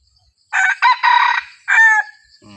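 A rooster crows once up close, a loud broken call in several bursts, followed by a short low cluck.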